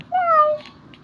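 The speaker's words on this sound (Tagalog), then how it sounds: "Kalaro niya yung pusa." A single cat gives one clear, close meow with a falling pitch, short and distinct against a quiet room with no talk.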